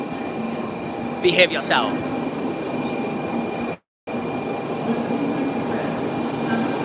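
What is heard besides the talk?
Kyushu Shinkansen bullet train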